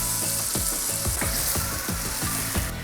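Pancake batter fries in butter in a pan for a British pancake recipe, a loud, steady, close sizzle with a string of soft scraping or stirring clicks underneath it.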